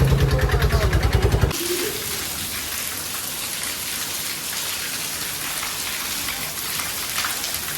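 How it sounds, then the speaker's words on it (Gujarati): Rain sets in steadily at a wedding outing, a dense, even patter of drops that follows a brief rhythmic mechanical hum at the start. "વરસાદ શરૂ થઈ ગયો છે મસ્ત મજાનો"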